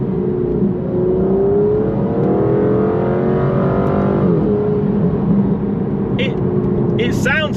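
An Aston Martin Vantage V12 revs in Sport Plus mode, a loud, steady engine drone rising and falling in pitch as it builds and eases off, close and continuous throughout.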